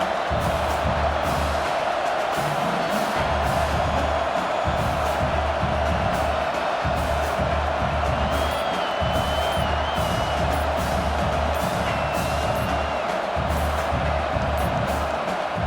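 A stadium crowd in a college football video game, Iowa State at Oklahoma State, keeps up a constant loud roar with a pulsing low rhythm underneath as the teams line up for a field goal.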